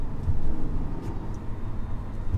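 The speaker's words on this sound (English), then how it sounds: "Let's downshift here. Okay, so we're third." A 2012 Mercedes C350 Coupe engine hums steadily from inside the cabin as it downshifts into third gear, a low, muffled drone with road noise and no sharp rev change.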